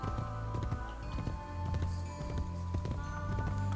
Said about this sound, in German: Ach komm, Pferdchen, komm her. Wir reiten.